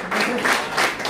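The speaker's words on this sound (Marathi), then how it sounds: "टाळ्यांचा आवाज कमी आहे." An audience applauds at a prize distribution for a singing competition, a short burst of close, dense clapping with no speech.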